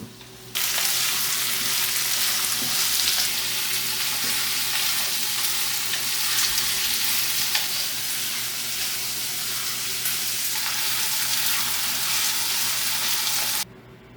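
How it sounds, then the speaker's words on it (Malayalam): Two ingredients sauté in hot coconut oil for a chicken curry, a loud, dense, unbroken sizzle that starts abruptly, holds steady for about thirteen seconds, then cuts off. "ഈ രണ്ട് ചേരുവകൾ ഇതിനി നല്ലപോലെ വഴറ്റെടുക്കാം നമുക്ക്"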